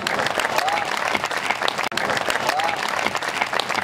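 An audience at a Hindi comic poetry recital breaks into loud, sustained applause, a dense wash of clapping that carries through the whole stretch with a brief cut midway and faint voices underneath.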